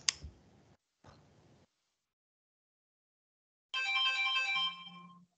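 A mobile phone ringtone sounds once, a melodic burst of bright tones lasting about a second and a half after a stretch of quiet, heard during an online talk about fire and biodiversity.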